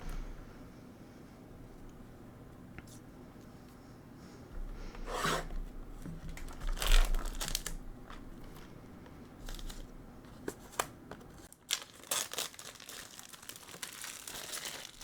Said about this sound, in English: let's get to the crinkling and those beautiful sounds that you love